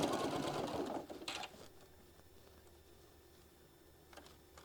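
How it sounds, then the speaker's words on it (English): A sewing machine stitches pieces of quilting fabric together in a fast, loud burst of whirring that stops after about a second, followed by a few brief handling noises and quiet. "I'm going to stitch all the way down, and you can clip it and pin it to get everything all lined up"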